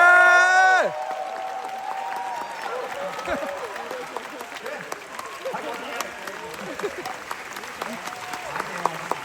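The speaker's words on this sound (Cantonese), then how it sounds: "我想借你哋嘅掌聲同埋你哋嘅歡呼聲" A theatre audience claps and cheers at the final curtain call of the Cantonese musical 三·八. A brief musical chord dies away at the start, then sustained dense applause with scattered whoops and crowd voices fills the hall.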